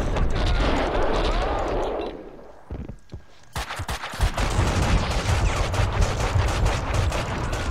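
Rapid gunfire in the action game Max Payne 2, dense bursts of shots and impacts following a short lull, loud and continuous with game voices mixed in.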